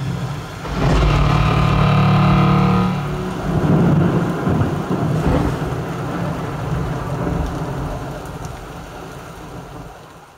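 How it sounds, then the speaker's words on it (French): A thunderstorm effect plays through a home-cinema system in a darkened hi-fi show demo room: a loud rolling thunder burst opens over heavy rain, then fades into steady downpour and softer rumbles. "maintenant, c'est place à la tempête dans notre Black Store de MyCiné"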